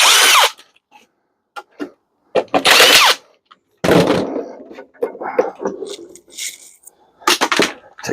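A power drill backs screws out of a dishwasher being stripped for scrap copper, in several loud close bursts of whirring separated by quiet handling clatter.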